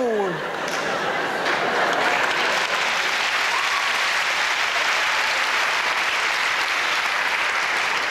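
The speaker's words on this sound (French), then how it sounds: "On l'applaudit, on l'applaudit." Loud, sustained applause from a large audience at the 1998 Juste Pour Rire comedy gala, a thick continuous roar of clapping after a brief opening voice, staying full and steady to the end.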